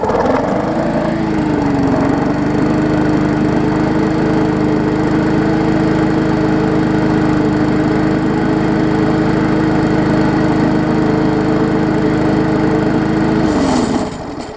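Push lawn mower with a classic Briggs & Stratton engine running steadily for about fourteen seconds, a loud, close, even drone that cuts off at the end.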